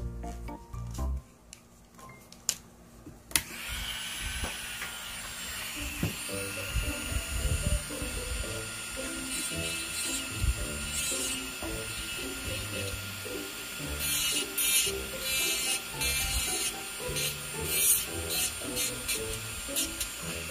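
Electric nail drill filing the surface of a gel nail during a soak-off, a thin steady high whine running throughout, with scattered quiet handling noises and brief pauses early on.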